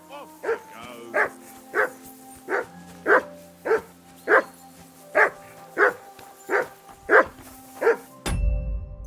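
A dog in Kingdom Come Deliverance II barks about a dozen times in a slow, even rhythm, each bark clear and close, before a sudden burst of noise cuts in at the end.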